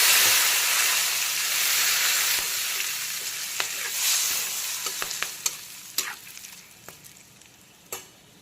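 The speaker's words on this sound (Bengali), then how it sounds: "এখন আমি আলু ভাজার তেলেই দিয়ে দিচ্ছি তেজপাতা আর গোটা গরম মশলা ফোড়ন।" Bay leaf and whole garam masala fry in oil left over from frying potatoes, hissing steadily at first, then breaking into scattered sharp crackles and pops as the sizzle eases.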